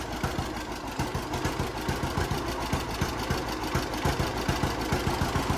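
A 1950s John Deere Model B tractor engine runs after long storage, its two-cylinder exhaust popping in a steady, rapid, uneven chugging rhythm, close and moderately loud with no talking over it.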